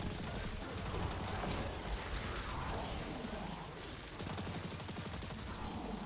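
Rapid gunfire from a Threaded Needle linear fusion rifle in Destiny 2, dense crackling bursts layered with game effects, fairly steady throughout with a brief dip near the end.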